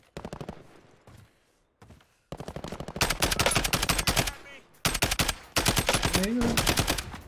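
Rapid automatic gunfire from the Call of Duty Warzone battle royale game comes in loud repeated bursts with short gaps between them.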